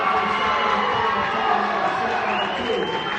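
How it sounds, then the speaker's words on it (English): At a high school volleyball match, the South Tama bench and crowd cheer for their team, a sustained roar of shouting and applause in a gym with an announcer talking over it. "the sound you hear there is the South Tama bench and the South Tama crowd giving it up for their team here"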